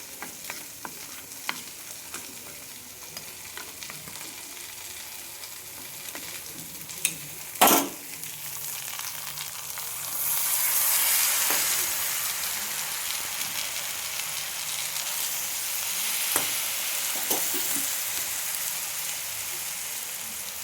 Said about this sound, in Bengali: এর মধ্যে মশলা দিয়ে দিয়েছি, ভাজা ভাজা হয়ে এসছে।